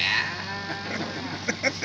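Sheep bleat nearby in a Turkmen rural setting, a couple of short, wavering calls rising over low background noise, with brief chatter and other animal sounds mixed in.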